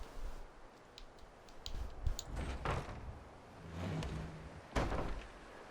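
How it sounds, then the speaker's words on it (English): A door being unlocked and opened in the Fallout 4 video game, with a few clicks and clunks, a sliding mechanical movement and a heavier thud near the end, close and moderately quiet. "unlock the door"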